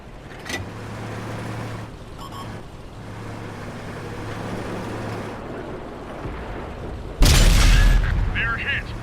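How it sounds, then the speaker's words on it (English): An artillery shell explodes in the World of Tanks game during a Tier 10 T110 E5 match, a sudden loud boom near the end that follows engine rumble and a few faint clicks. "I heard like an artillery round"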